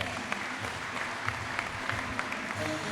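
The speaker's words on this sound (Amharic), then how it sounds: "አጨብጭቡ ለጌታ።" A church congregation claps steadily throughout, a dense wash of applause with a few louder individual claps standing out, no voices above it.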